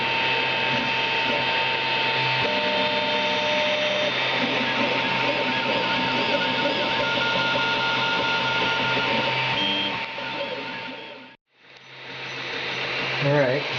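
A 3D printer prints on a flat glass bed coated with hairspray, giving a steady, close whirring hum with stepper-motor tones and small shifts in pitch, briefly dropping out near the end before resuming.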